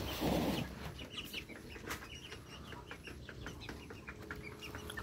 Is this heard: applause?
no